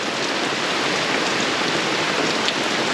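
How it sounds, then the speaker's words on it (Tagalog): Heavy rain pours steadily at a campsite during a car-camping trip with a Montero Sport, a dense, continuous hiss of drops hitting surfaces, loud and close with no pauses, and no voices. "ganyan lang yung ulan dito"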